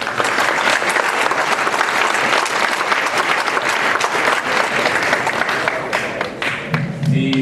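Dense, sustained applause from an audience at an evening legislative meeting honoring school sports teams, steady and loud throughout, thinning slightly near the end.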